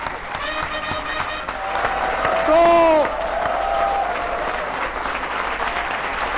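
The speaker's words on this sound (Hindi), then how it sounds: "एक बार जोरदार तालियां राज बिहारी जी के लिए।" An audience at a Hindi kavi sammelan poetry gathering breaks into loud, sustained applause, thick with many clapping hands, while a voice briefly speaks and a short tonal sound rises over the clapping midway.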